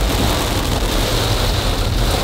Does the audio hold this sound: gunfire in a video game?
no